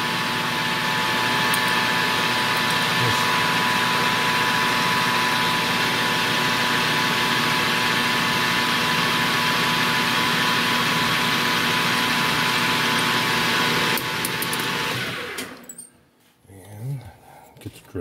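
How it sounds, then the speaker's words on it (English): Metal lathe running at about 1,000 rpm in low gear while center drilling, a steady loud machine drone with motor hum holding for about fifteen seconds before stopping abruptly, leaving faint handling noises. "I'm going in center drill."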